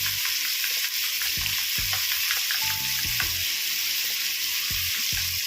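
Paneer masala and turmeric frying in a pan while being stirred, a continuous sizzle with regular soft scraping strokes of the spoon, close and alone.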